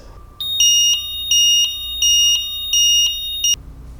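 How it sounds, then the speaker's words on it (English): UniChock pullout alert alarm from an IDOC loading dock controller: a loud, piercing electronic tone pulsing in six even beeps about half a second apart, clear and alone over a faint room hum. "it would change to a red X with a pullout alert and would make an alarm that sounds like this."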